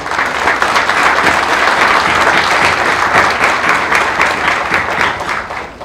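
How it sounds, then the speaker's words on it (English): Sustained, loud audience applause fills a conference hall, steady dense clapping from a large crowd throughout without a break. "give yourselves a round of applause for being here"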